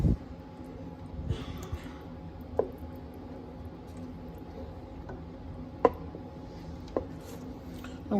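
Gumbo ingredients with dried parsley on top being stirred together in a pot, giving soft scraping and squishing sounds under a steady hum, with a few sharp utensil clicks against the pot.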